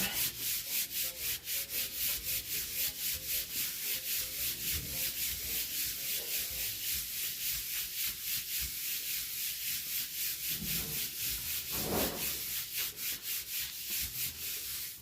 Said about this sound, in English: So I'm going to turn this over and rub.